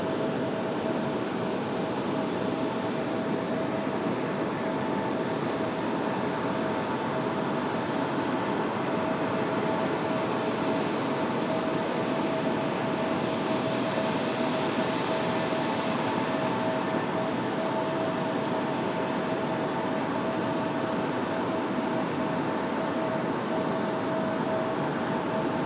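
A Delta Boeing 737 takes off from runway 23 right at Raleigh-Durham, a steady broad jet roar held throughout at a distance, with a thin constant whine running over it and no voices.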